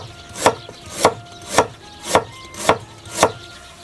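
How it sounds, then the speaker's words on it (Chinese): A knife chops scallions and ginger on a cutting board in six evenly spaced, crisp thuds, close and clear with no talking. "切点葱姜"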